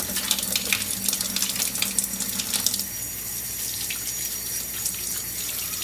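Hands are washed under a running sink tap after cleaning an oily engine oil catch can, water splashing loudly over skin and basin before settling into a steadier, softer stream.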